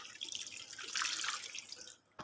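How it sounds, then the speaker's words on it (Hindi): Water poured into a cooking pot holding boiled chickpeas, a close splashing pour that swells in the middle, thins out, and ends with a brief knock. "थोड़ा सा पानी भी डाल देंगे"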